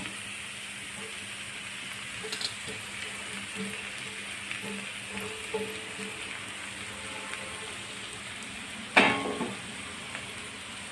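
Radish leaf bhaji with freshly grated coconut is sautéed in a pan, giving a steady low sizzle with occasional soft stirring scrapes and a sharper clatter near the end, close and alone.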